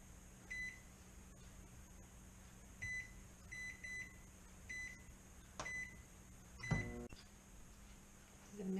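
Quiet steady hum of a microwave oven running while melting chocolate in 30-second intervals, with several short electronic beeps scattered through and a louder clunk near the end.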